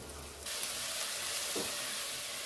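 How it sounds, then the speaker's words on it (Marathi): A sudden burst of loud sizzling starts as finely chopped fenugreek leaves hit hot tempering oil over a low flame, then a steady frying hiss continues with a faint scrape. "आपण या फोडणीत बारीक मेथी घातली आहे।"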